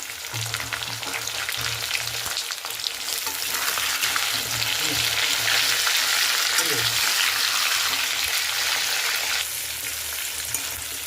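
Green peas tossed into a wok of fried potatoes sizzle loudly and continuously for aloo dum, with occasional stirring scrapes and a hiss that swells midway before easing.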